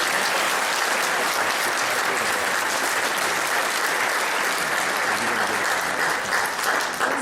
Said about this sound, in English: The two co-chairpersons of the organizing committee, I think they deserve a round of applause.